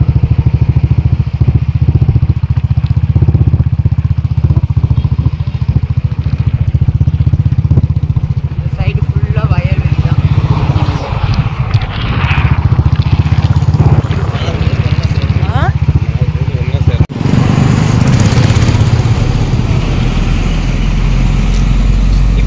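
A two-wheeler ride along a road near a temple, the engine running steadily throughout with loud continuous rumble and wind buffeting, some clatter midway.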